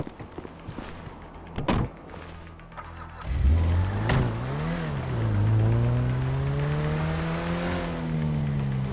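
Car in the game GTA V: a door-like thump and clatter, then an engine starts and revs, rising and falling as the car pulls away, holding a steady loud drone to the end.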